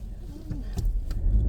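Cars on a road by a parking area give a low, steady rumble for a brief moment, with a faint thump near the middle and slightly louder traffic noise toward the end.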